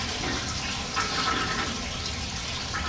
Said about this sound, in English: here you got the toilet, the flushes